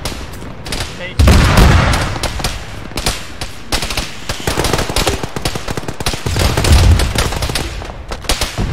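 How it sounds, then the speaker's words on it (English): Gunfire and a grenade launcher going off in the military shooter Arma 3: a loud, sharp blast near the start, then rapid bursts of shots that continue throughout, with voices talking in between. "Fire a grenade at it."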